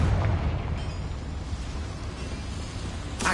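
Confringo blasting spell explosion in Hogwarts Legacy, a loud rumbling burst that rolls on as a dense low roar and fades slowly, with a fresh crackling burst at the end.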